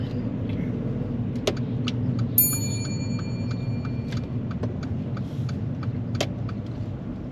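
Car slowly pulling in and parking at the roadside, a low steady engine and road rumble throughout with faint clicking ticks from an indicator or keys.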